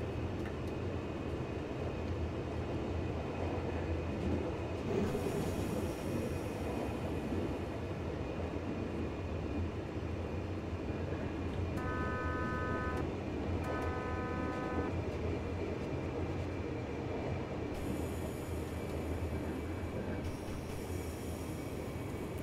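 Train rolling steadily on rails in the Train Simulator 2019 Teuto Bahn route set in the 1990s, a continuous loud rumble with brief horn-like tones and hissing bursts partway through, no talk.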